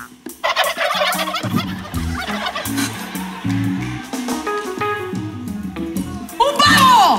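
A person imitates a turkey's gobble during a lively sound-guessing game on a comedy talk show, with a loud, warbling voice rising over overlapping talk and noisy reactions from others.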